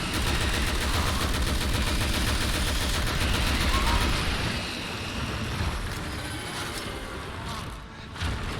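Dense, continuous gunfire from shooting enemies in the Outriders demo, a loud rattling barrage that holds steady for several seconds before easing slightly toward the end.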